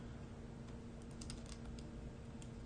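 Number keys tapped on a calculator in quick, light clicks, close and quiet, a short run of presses with no talking.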